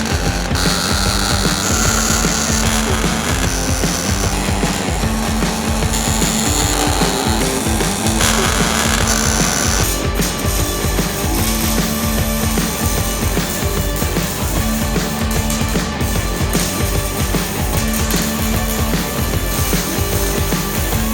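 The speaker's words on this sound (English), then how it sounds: "let's get to welding." A weld-it-yourself LSK roll cage kit is welded onto a UTV, giving a steady, loud, close crackling buzz and hiss that runs without a break from start to finish, with no talking.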